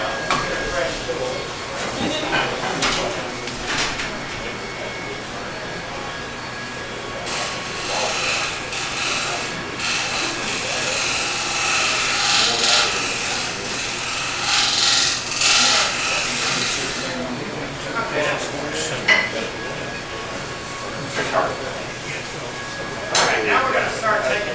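A turning tool cuts into the inside of a wooden hat spinning on a lathe. The scraping and rushing swells loudest midway, with hum and background noise around it.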